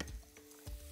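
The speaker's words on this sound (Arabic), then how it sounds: "نقلب" Vegetables for shrimp kabsa are stirred in a pan, a brief close scrape over a soft sizzle with a couple of quick utensil strokes.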